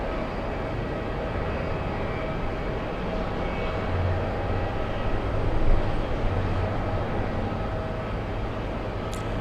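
An Alaska airliner from Portland takes off as a steady, broad jet roar that holds for the whole stretch, swelling a little in the middle, with no talking.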